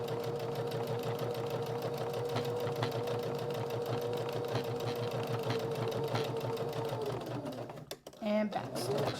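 Sewing machine stitching a denim keychain, a fast steady mechanical chatter running for several seconds before slowing and stopping, followed by a few clicks.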